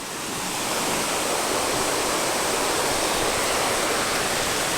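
Creek water at Finch Hatton pours steadily over rocks, a loud, close, continuous rushing wash with no voices.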